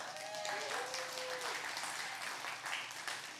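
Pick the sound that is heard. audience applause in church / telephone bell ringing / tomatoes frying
audience applause in church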